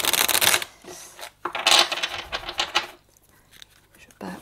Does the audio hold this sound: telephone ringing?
no